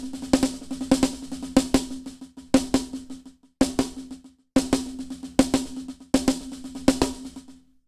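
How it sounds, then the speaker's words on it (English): A drum kit plays paradiddle-diddle phrases with kick drum added, accenting the first two notes of each group, giving repeated bursts of close, punchy strokes separated by short pauses. "If you want to accent your first two notes,"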